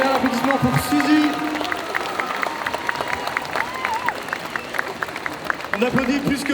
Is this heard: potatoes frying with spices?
no